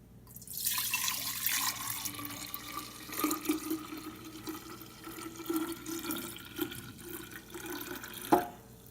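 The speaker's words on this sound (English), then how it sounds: "I poured the tea into the jar" Cooled sweet tea poured from a pot into a big glass jar, a steady close splashing stream that runs for several seconds and ends with a brief clink near the end.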